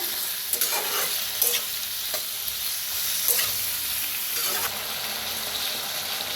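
Food fries in mustard oil in a pan, a steady bright sizzle broken by a few scraping stirs at irregular intervals.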